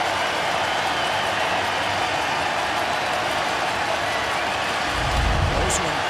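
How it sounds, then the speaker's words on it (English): A stadium crowd roars steadily throughout at a CFL football game between the Hamilton Tiger-Cats and Saskatchewan Roughriders, a dense, loud wash of cheering with a deeper swell near the end. "Now the crowd get behind this defense"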